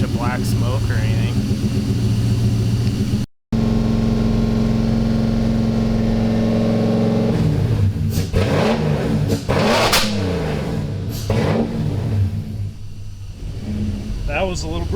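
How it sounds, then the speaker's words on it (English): A Toyota 1UZ V8 swapped into a pickup with an aftermarket ECU and harness idles steadily up close, drops out for a moment, then revs in several rising bursts with popping, while people talk over the engine. "it seems to be running all right so far, just sitting here idling"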